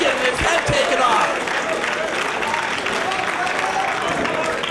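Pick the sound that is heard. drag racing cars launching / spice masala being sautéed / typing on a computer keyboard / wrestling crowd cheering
wrestling crowd cheering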